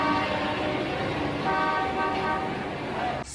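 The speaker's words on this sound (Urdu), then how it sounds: "ہارن کے بجنے کی آواز" Car horns honk in dense road traffic, several toots blaring over a constant roar of engines, loud and continuous, with some indistinct voices mixed in.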